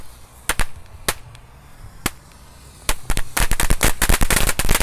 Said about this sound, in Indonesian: eksperimen menyalakan mercon air mancur pratek bola warna-warni dengan baling-baling kipas